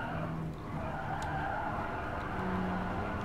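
Race car engines in Gran Turismo Sport drone steadily at close range, with a continuous roar and some tire noise and no clear talking over it.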